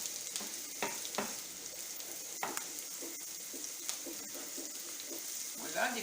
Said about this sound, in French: À côté, je fais revenir des poivrons verts et des poivrons